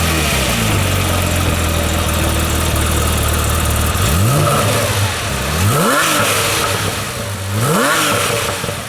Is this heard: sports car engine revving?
yes